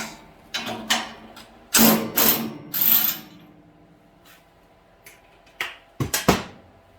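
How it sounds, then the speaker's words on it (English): A 3/4 inch wrench turning a bolt and nut while a roller bearing is fitted to a JWBS 18 bandsaw, giving scattered metallic clicks and ratcheting bursts separated by quiet pauses. "So 3/4 inch wrench."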